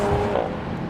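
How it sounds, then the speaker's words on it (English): Audi RS4 Avant Competition with its V6 exhaust, a loud, close, low-pitched engine drone with a brief rise in tone, steady and without speech. "I love the sort of the really low register that you get, I think particularly with this exhaust."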